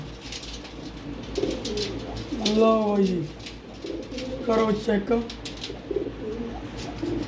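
Two clear rounds of throaty pigeon cooing rise close by, with someone speaking briefly and a faint background hum throughout.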